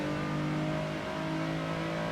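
A turbocharged race car engine in the racing game Assetto Corsa, driving at Le Mans, holding a steady droning tone with faint turbo whine, brief and moderately quiet.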